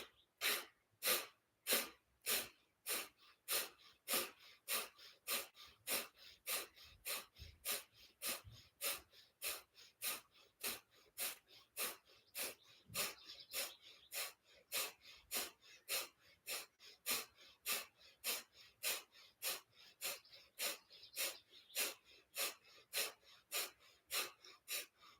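Kapalabhati yoga breathing: a long steady run of rapid, forceful nasal exhales, each a sharp close puff repeating at about one per second, evenly paced with no talking.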